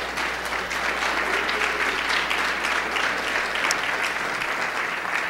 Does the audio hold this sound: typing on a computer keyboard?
no